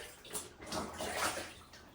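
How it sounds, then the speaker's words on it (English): Wetsuit booties soak and get rinsed in water, giving soft sloshing and trickling swirls in several gentle surges, close and fairly quiet with no talk. "I just rinse my booties. I soak it in water."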